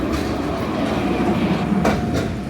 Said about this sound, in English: And here is the tram making noise.